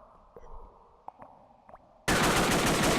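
Gunfire in the Stargate TC SG-1 Missions game: faint scattered shots under a low background, then a sudden loud, dense burst of automatic fire that fills the end.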